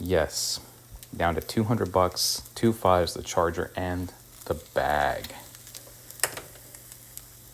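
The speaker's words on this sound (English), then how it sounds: "Sorry about the noise, guys. I'm making some lunch out here." Food sizzles steadily in a frying pan as lunch is cooked, a soft frying hiss sitting beneath close, continuous talk from people nearby.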